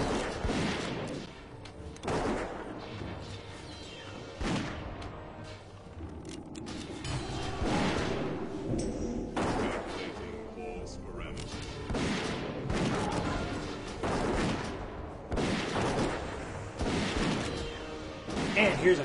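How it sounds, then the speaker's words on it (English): Void Reaver boss fight in a video game, with repeated booming arcane explosions and thuds arriving every couple of seconds under a dense game soundscape, while a voice talks over it. "As long as you stay out of the way of the arcane explosions,"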